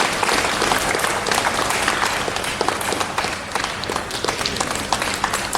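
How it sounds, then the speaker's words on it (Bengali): Audience applause fills the hall at a music family's fourth anniversary celebration, dense steady clapping from a crowd sustained throughout without any voice over it. "সবাই করতালি দিয়ে উন্মুক্ত করুন"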